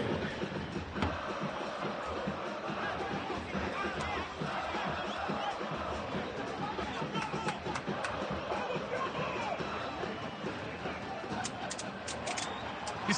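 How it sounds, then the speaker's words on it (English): Large stadium crowd at Estadio Caliente roaring and cheering steadily at a soccer match, a dense continuous wall of voices with occasional sharper shouts toward the end. "Crowd going wild as Piojo was walking up with La Gente"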